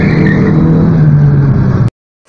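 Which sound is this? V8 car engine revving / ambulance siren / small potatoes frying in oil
V8 car engine revving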